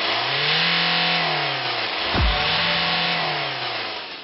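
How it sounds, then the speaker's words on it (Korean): A diesel car engine runs steadily in normal condition during an inspection, a loud close drone with a brief rev swell near the middle before settling back to an even hum. "엔진 소음을 들어보니까 일반적인 디젤, 정상적인 차하고 제가 똑같다고 지금 생각이 듭니다"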